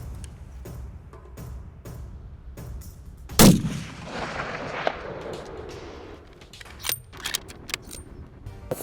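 Rifle shot fired at a red stag during a hunt, a single sharp loud crack followed by a rolling echo across open country, with faint rustling and handling noises around it.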